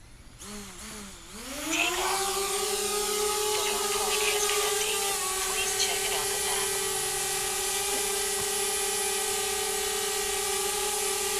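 A DJI Spark drone spins up its rotors and takes off, rising from a short start into a steady, close, loud whine that holds throughout.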